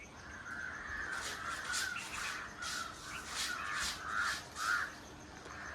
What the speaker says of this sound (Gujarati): નીકળા કાગડા જ છે આ બાજુ જો નિકરા જ બોલે અવાજ સાંભળો